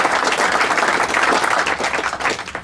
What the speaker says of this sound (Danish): Dem vil jeg også gerne lige have, at vi lige klapper af her.